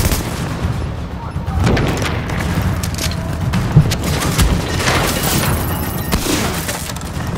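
Gunfire in the video game The Division during a refugee camp mission, dense and loud with rapid overlapping shots and booms throughout, a continuous fusillade with occasional sharper cracks.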